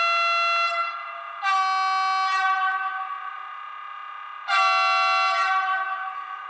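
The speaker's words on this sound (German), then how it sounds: "Von den Lockhörnern habe ich hier verwendet von ESU, vom neuen, also vom neueren ESU 1116er Projekt, die Lockhörner" ESU LokSound locomotive horns on a Roco BR185 model electric locomotive: two loud, sustained two-tone horn blasts with a softer held tone between them, close and alone.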